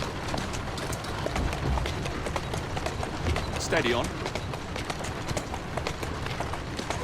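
Horse hooves clip-clop at a steady pace through a Victorian London street in the game Assassin's Creed Syndicate, with someone talking over the hoofbeats throughout.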